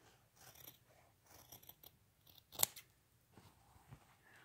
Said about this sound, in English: to get rid of the excess fabric, some of it anyway. I trim it just a tiny bit outside of what the mark is